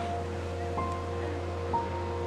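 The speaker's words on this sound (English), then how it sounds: "the crashing of the waves" Ocean waves rolling in at Bondi Beach, a faint, continuous wash of surf with a soft low rumble and brief swells in loudness.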